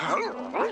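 A dog gives two short yipping barks with a whimpering rise and fall, close and fairly loud, with a brief gap between them.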